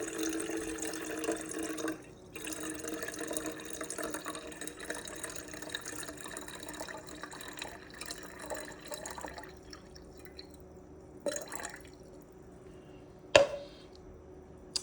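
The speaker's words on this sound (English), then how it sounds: "I'm going to measure out 500 ounces of water" Water for pour-over coffee trickles and splashes steadily at close range, with a continuous liquid wash broken by a couple of brief sharper clinks near the end.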